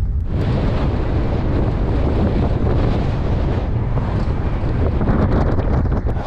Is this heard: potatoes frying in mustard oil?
no